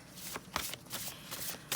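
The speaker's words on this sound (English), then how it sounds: "I'm going to do shuffling on camera" A deck of tarot cards being shuffled by hand, with repeated soft papery riffles and slaps in an uneven rhythm, close and quiet with no talking.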